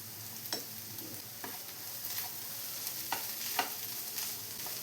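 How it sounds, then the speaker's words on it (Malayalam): Crushed ginger, garlic and onion fry in oil as they are stirred, giving a continuous close sizzle with soft scraping strokes every second or so. "ഇതിൻ്റെ റോസ്മെല്ലൊന്ന് മാറി വരുന്നവരെ ഇളക്കിയെടുക്കാം"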